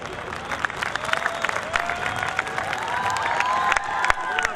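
An audience applauds at a Hindi-language speech event about the Marwari language. The clapping is dense, steady and fairly loud throughout, with a few scattered shouts mixed in.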